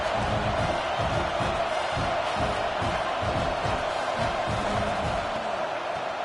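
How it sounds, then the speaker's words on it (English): A steady roar of a large American football stadium crowd, dense and continuous, with faint voices and shouts blended into the wash for the whole stretch. "This crowd bringing the energy and noise early"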